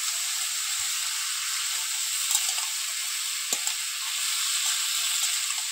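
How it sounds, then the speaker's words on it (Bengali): Taro stolons and prawns frying in a pan while being stirred, a steady hiss of sizzling oil with a few brief clicks of the spoon against the pan, close and fairly even throughout. "সামান্য একটু নেড়ে চেড়ে নিলাম।"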